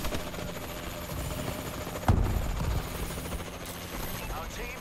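In Call of Duty Advanced Warfare multiplayer, a Warbird aircraft arrives with a steady helicopter-like rotor drone, sharpened by a burst midway, while a voice speaks over it.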